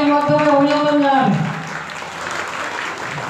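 Crowd applause at a local ward gathering welcoming an MLA, starting under a sustained voice over a public address system, then continuing alone as even, moderately loud clapping.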